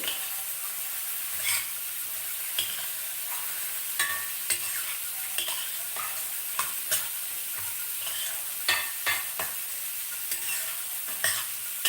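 Soaked mung beans for a curry are stirred in a pan after salt is added. A soft sizzle runs under repeated scraping and clacking strokes of the spoon, irregular and close, with no one speaking.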